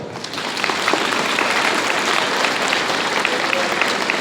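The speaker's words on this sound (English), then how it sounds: "Clap for him." Students at a school gathering applaud a 12th-standard topper, a steady, dense wash of clapping that holds loud and even for several seconds with no talk over it.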